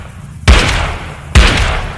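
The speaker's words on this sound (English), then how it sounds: "you can notice how when you shoot, that little bullet comes out" Two loud, punchy gunshots from a gun in a video game, spaced nearly a second apart, each a sharp blast with a heavy low thump and a short fading tail.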